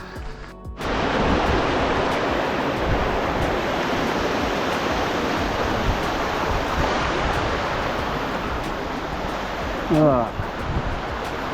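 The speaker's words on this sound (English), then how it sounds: "Little water slides." A small stream cascades down a mountain trail on Mount Saint Helens, a close and steady rushing wash of water, with a brief voice near the end.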